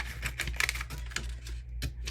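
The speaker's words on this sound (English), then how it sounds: "I'm going to cut it almost to the edge." Template tape for a tumbler being cut almost to the edge, leaving a small piece attached: a close, quick series of crisp snipping clicks with short pauses between them.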